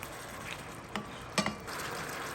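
Shrimp and hot links sauté in a pan with a steady, faint sizzle, broken by a few light clicks and taps of a utensil against the pan.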